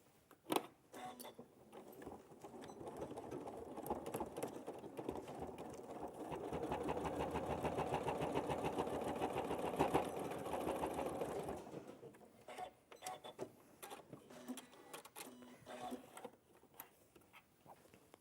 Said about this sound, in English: we're going to top stitch along those folds